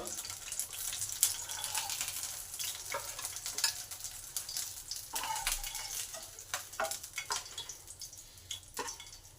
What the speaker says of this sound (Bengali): মাছগুলো দু পিটি লাল লাল করে ভাজা হয়ে গেছে